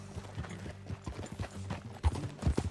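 Horse hooves clip-clop at a steady gallop while riding in Red Dead Redemption 2, with a few heavier thuds near the end and no voices.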